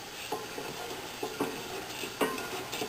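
Sugar and corn syrup are stirred in a pot with a spoon, giving soft scraping strokes and light taps against the pot at an unhurried rhythm under a faint hiss.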